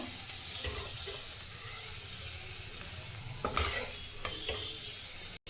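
Ground bean paste sizzles steadily in a hot pan while a spatula stirs and scrapes it, making occasional louder scraping bursts over the constant frying sound.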